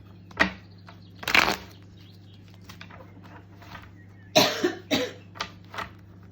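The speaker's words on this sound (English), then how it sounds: "God, I hate coughing." A few separate coughs, sharp and close, scattered across a quiet background with a low steady hum.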